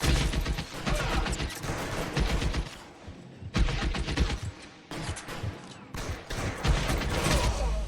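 Gunshots in the detective game L.A. Noire, loud bursts of rapid fire broken by short pauses, repeating in several volleys across the stretch.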